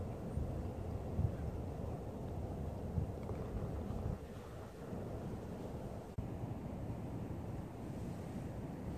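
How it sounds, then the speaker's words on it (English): Ocean surf breaking on the beach beside a coastal golf links at Bodega Bay, California, at sunset: a steady low wash of rolling waves with gusting wind buffeting the microphone. "You can hear the waves hitting the beach."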